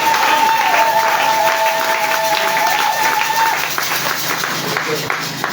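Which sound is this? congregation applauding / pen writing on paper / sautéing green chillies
congregation applauding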